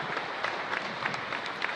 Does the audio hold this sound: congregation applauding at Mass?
yes